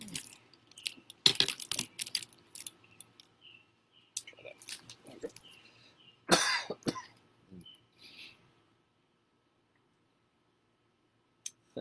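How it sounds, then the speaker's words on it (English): A person coughs and clears their throat outdoors on a summer evening, several short harsh bursts spread unevenly across the first eight seconds, close to the microphone, with faint clinking and handling noises between and quiet after. "I'm hacking up coughing way too much."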